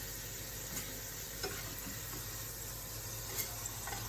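Pastries deep-frying in hot oil for Eid, a faint, continuous bubbling sizzle with occasional small pops, steady and unaccompanied by voices.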